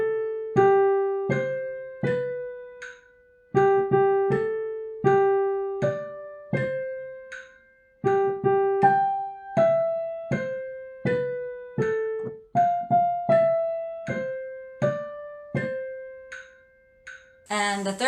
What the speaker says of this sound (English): The next one is Happy Birthday, and when you play it, it sounds like this.